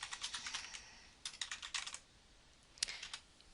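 Typing on a computer keyboard, a quiet close run of light key clicks in short bursts with brief pauses between them, and no voices.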